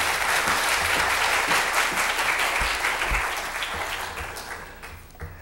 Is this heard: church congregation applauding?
yes